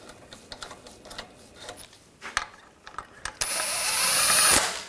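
Bolts on a rear sway bar bushing bracket of a 2015-2020 Cadillac Escalade being tightened with a ratchet, a run of quick close clicks and small metallic knocks followed by a louder, steadier burst of tool noise near the end, with no talk.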